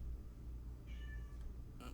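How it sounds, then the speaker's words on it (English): A house cat meows twice indoors, a drawn-out tonal cry followed by a short, sharper one, close and fairly clear over a low background hum. "My cat was driving me nuts."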